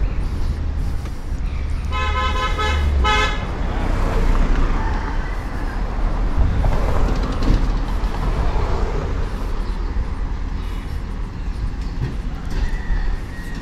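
Busy street traffic on Kayak Kasan Road in Tamwe Township, Yangon, with a steady roar of vehicles and a loud burst of repeated car horn toots early on, then more scattered honks amid the continuous street din.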